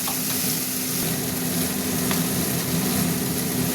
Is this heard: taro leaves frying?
yes